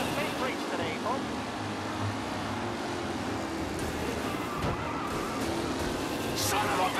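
Race cars speeding in a tight pack during a race in Mafia Definitive Edition, a continuous roar of engines and rushing tire noise, loud and dense, with voices talking over it.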